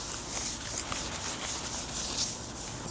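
Cloth wiping a wooden surface with a heavy-duty multi-surface degreaser cleaner during prep for painting, giving a steady, close scrubbing rub with a hissy texture that runs without pause.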